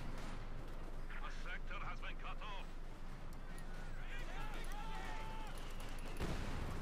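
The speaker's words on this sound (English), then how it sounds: "We've got a lot of mortar fire here" Mortar shells and artillery fire boom repeatedly across a Company of Heroes 2 battlefield, with steady rumbling explosions and scattered gunfire beneath a commentator's continuous talk.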